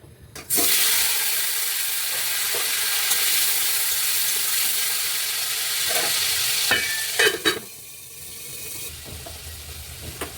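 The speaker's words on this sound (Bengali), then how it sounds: "ডুমো ডুমো করে আলু কেটে নুন হলুদ মাখিয়ে রেখেছিলাম, এবার এটা ভেজে নেব" Diced potatoes coated in salt and turmeric fry in hot oil with a steady, continuous sizzle, broken by a few stirring scrapes and clatters toward the end.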